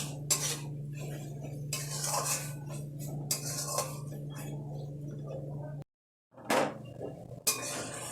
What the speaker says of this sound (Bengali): এখন আমি মাছটা ঢেলে দেব। এটা কিছুক্ষণ একটু নাড়াচাড়া করব।